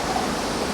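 River waterfall roaring steadily up close beside a magnet-fishing spot, a dense, constant rush of falling water with no break and no voices.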